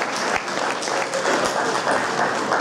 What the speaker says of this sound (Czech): Zatleskněte tomu pánovi